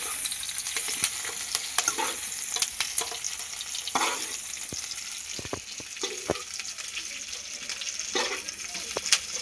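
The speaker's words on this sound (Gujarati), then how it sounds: "હવે આપણા મરચાં તળાઈ ગયા છે તેલમાં" Capsicum peppers frying in hot oil for a besan sabzi, with a steady close sizzle and crackle plus repeated stirring scrapes and clatter throughout.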